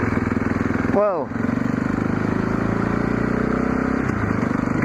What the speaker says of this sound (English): Guy ripping around on a moped.